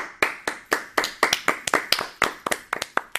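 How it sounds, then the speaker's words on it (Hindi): A small audience at a children's kathak dance program gives a brief round of sharp, distinct claps, about a dozen clearly separated hand claps in an uneven rhythm, close and fairly quiet. "तो चलिए स्वागत करते हैं जोरदार तालियों के साथ"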